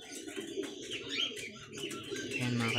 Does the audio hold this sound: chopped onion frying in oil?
no